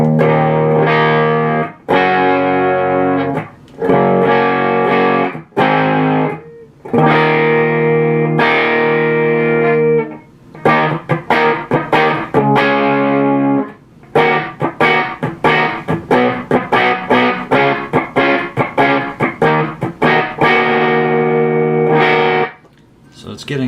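Electric guitar run through a scrap-built overdrive effect, sustained chords and choppy strummed bursts with slight break-up and gritty distortion, loud and alone.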